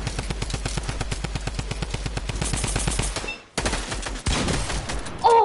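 Continuous rapid automatic gunfire from a shooter video game, a steady dense rattle of shots lasting several seconds, briefly cutting out before resuming, with a short vocal exclamation at the end.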